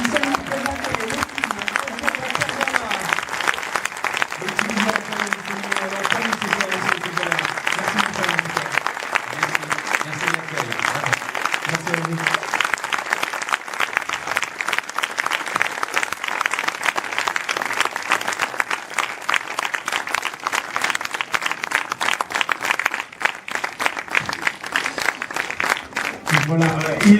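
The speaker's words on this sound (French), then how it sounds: "que tout le monde se lève, des applaudissements" A cinema audience on its feet gives long, steady applause at a film presentation in a multiplex. The dense clapping runs throughout, with voices heard underneath early on.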